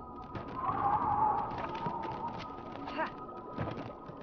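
A bird in the LEGO Harry Potter video game coos in soft, dove-like calls across a steady bed of game ambience, with scattered brief clicks and effects and no clear talk.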